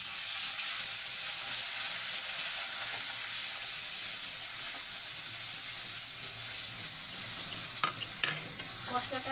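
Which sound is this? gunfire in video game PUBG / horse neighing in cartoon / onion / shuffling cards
onion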